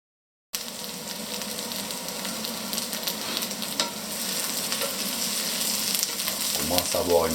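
Ratatouille vegetables frying in an oiled pan while being stirred often, a continuous close sizzle with scraping and stirring noises that grows slightly louder toward the end.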